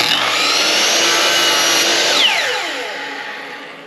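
A miter saw runs close and loud as it cuts through clamped wood, the whine holding steady for about two seconds and then spinning down and fading as the blade slows.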